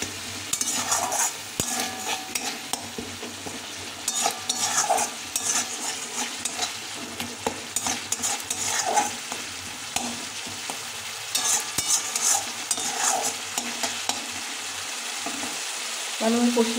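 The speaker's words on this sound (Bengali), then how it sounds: "আদাটা দিয়ে দেবো। এটা ভালো করে কষিয়ে নিয়ে" Ginger paste sautéed with spices in oil, a close sizzle broken by frequent scraping and clinking strokes of a spatula against the pan, with no talk.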